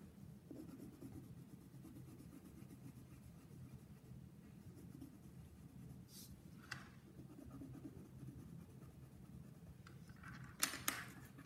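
Colored pencil scratching and shading on paper in a classroom art lesson, a soft continuous rubbing drawn out in steady strokes, close and faint, with a couple of brief sharper taps near the end and no talking.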